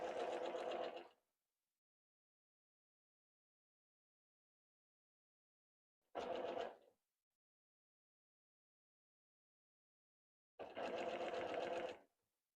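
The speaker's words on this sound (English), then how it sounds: "Now we can sew this side on." A sewing machine stitches quilt block pieces in three short, steady runs, each about a second long, separated by silence.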